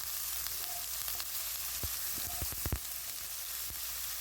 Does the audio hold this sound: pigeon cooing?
no